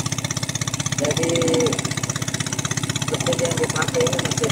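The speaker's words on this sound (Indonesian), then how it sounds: "mesin yang dipakai ini mesin pada umumnya cuma bahan bakarnya menggunakan gas." A traditional fishing boat's ordinary engine, converted to run on gas fuel, chugs in a steady fast pulsing idle close by, with a voice talking over it.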